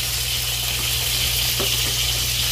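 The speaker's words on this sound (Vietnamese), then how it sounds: "Bông hẹ mình xào với thịt bò với dưa leo nè." Garlic chive flowers stir-fried with beef and cucumber in a home kitchen give a steady, moderately loud sizzling hiss that runs unbroken throughout, over a low, constant hum.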